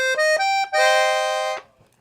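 A Hohner student piano accordion on its treble clarinet register plays a few short single notes, then holds a fuller, reedy chord for about a second before stopping cleanly.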